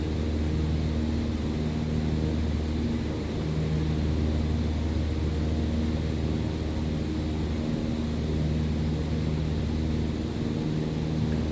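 A light plane's engine drones in Microsoft Flight Simulator, a steady unbroken hum with a low rumble that holds at an even, fairly loud level throughout, with no talk.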